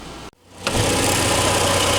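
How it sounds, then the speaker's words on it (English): A car engine catches after a brief silence and settles into a steady, loud running drone with a slight knock, following a timing adjustment. "Car's running again."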